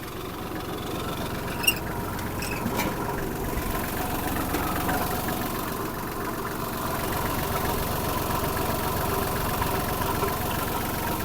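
A Japanese Kubota GL-200 mini tractor engine idles steadily up close, a continuous low chugging rumble with a faint knock, with a couple of brief clicks early on.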